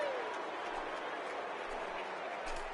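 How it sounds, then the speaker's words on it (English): Stadium crowd noise at Yankee Stadium in a baseball video game, a steady dense roar of cheering spectators at moderate distance with no standout claps or shouts. "The Yankee Stadium crowd getting fired up as Dustin Pedroia is into the box to get this one started."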